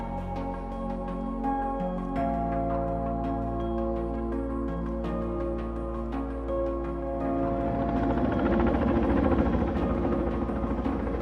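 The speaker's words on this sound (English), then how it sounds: "Today we were using a helicopter to deliver large wood" A helicopter hovers nearby while delivering large logs for river habitat restoration aimed at salmon and steelhead, its rotor thumping in a steady drone that swells louder toward the end, with no voices.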